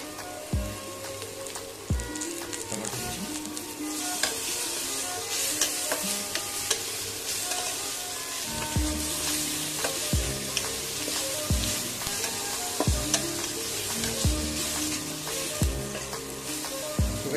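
Chopped tomato hits rupchanda fish frying in a pan, producing a continuous sizzle with repeated scraping stir strokes throughout, close and fairly loud.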